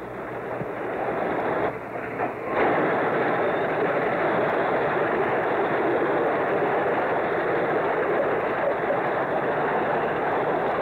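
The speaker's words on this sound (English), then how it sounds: "Powerful diesel engines growl. Slowly, our long, heavy freight train glides out of the rail yard." Diesel locomotives growl as they pull a long, heavy New York Central freight train out of a rail yard, a loud continuous low rumble with a brief dip before the engines surge.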